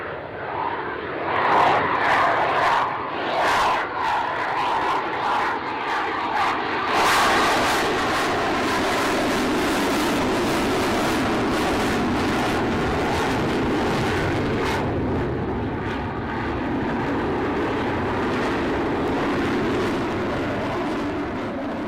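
Avro Vulcan bomber's jet engines roar loud and sustained, a broad rumbling wash that swells early then holds steady and heavy for about twenty seconds, with no voices over it.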